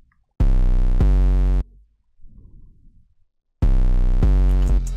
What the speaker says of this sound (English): Okay, now let's move on to the second 808.